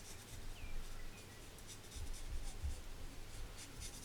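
Marker being drawn across a birthday card while coloring: faint, continuous scratchy rubbing strokes, close and quiet, with no talk.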